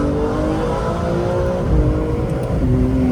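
A BMW M4 G82 accelerates hard with traction control off, its engine note droning loud and close with rising harmonic pitch, briefly dipping at a shift before climbing again.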